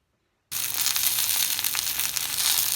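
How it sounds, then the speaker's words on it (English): Shishito peppers sautéing in a hot pan: after a brief silence a loud, steady sizzle bursts in and holds, full of crackling, spitting hiss. "let's saute our shishito peppers"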